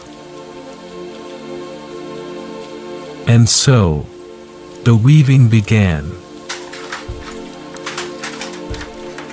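Calm, steady rainfall patters softly and continuously under a slow, gentle narrating voice that speaks in two short phrases.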